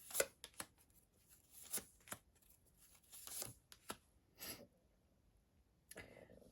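Cards being shuffled and handled up close, a series of quick riffling and snapping bursts with short pauses between, no talking.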